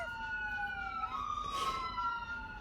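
A police siren wails across the scene, its pitch sliding down and then rising as the vehicle goes past, fairly faint and a little distant over a low hum of traffic.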